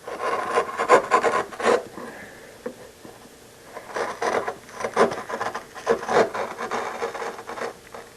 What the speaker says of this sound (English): So come in with a smaller chisel if you need to. Just recess at that just a little bit.